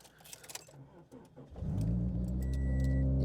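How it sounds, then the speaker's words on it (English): A turbocharged, E85-fuelled Scion FR-S with an automatic gearbox cranks and fires up after a few light clicks and rattles, then settles into a loud, close, steady idle rumble. "Start the car."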